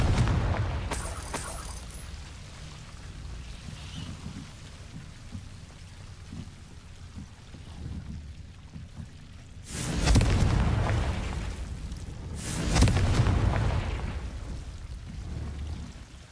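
Confringo fire-blasting spell in Hogwarts Legacy, two loud booming bursts a few seconds apart rising out of a soft, rain-like hiss of ambience, each swelling and then fading away.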